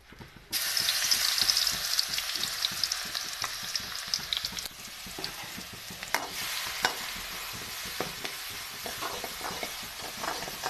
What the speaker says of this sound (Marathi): आता मस्त तेल झालेलं आहे आता मी टाकून घेते हिरवी मिरची आणि लसूण